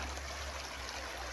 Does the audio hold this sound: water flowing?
yes